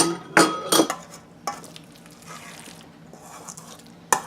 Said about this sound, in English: Kind of stir a little bit.